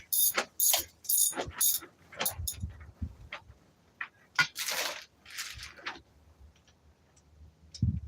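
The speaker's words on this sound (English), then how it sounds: "I try and undo the nut in the top of the forks" Spanner ratcheting on the nut at the top of classic motorcycle forks, a quick series of close, sharp metallic clicks and ticks, bunched then sparser, in a quiet room.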